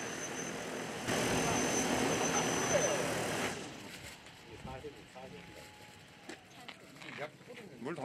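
An agricultural spraying drone landing during a field demonstration, its loud whirring rotors roaring steadily for a few seconds and then winding down. A voice talks over the fading end.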